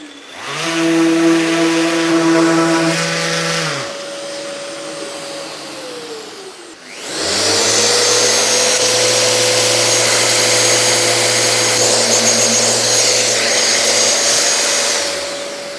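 A Festool power sander whines loudly with steady tonal hum, stops briefly partway, then starts again and runs continuously.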